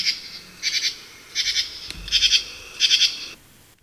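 Four buzzy pulsed bursts from a bright green night-calling insect, not a cricket, ring out close and clear in a quiet setting, each a short rattling trill, with a faint low thump in between.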